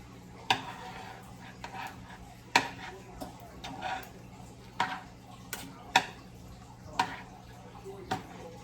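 A spoon stirs chicken and red peas stew in a pot, sharp metallic clinks and scrapes recurring roughly every second over a low steady hum, with occasional talk in the background.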